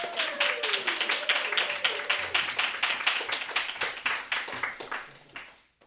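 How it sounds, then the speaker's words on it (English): Audience clapping at a live storytelling show, a burst of separate hand claps that swells and then fades out near the end, with a speaking voice over the start. "Please clap and embarrass him."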